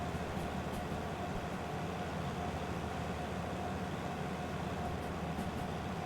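Steady low rumble of a locomotive running in the Derail Valley train game, a dense continuous drone with a faint tonal hum, even and unbroken throughout with no voices.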